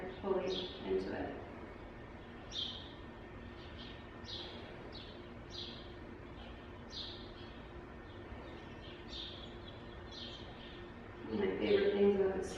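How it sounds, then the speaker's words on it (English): Birds outside a yoga studio give short, high chirps repeated every second or so at a distance, faint and steady beneath a calm speaking voice. "the sound of the birds that you can hear outside"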